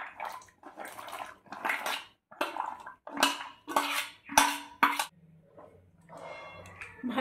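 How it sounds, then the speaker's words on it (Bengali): Papaya pieces stirred in a pot of hot water with lemon juice, giving a run of close, splashy sloshing and clinking bursts in quick succession, then a quieter stretch near the end. "ভালোভাবে একটু নাড়িয়ে দিলাম।"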